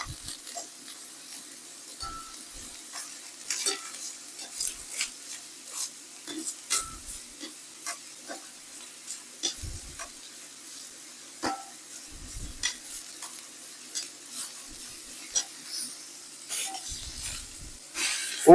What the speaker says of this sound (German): Schaut euch das an, wie das brutzelt.